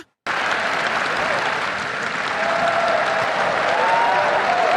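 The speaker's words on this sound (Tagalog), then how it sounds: "Palakpak pa ng palakpak to mga to" Legislators and guests applaud at the State of the Nation Address in a large hall, a dense, sustained roar of clapping that starts abruptly and stays loud and even throughout.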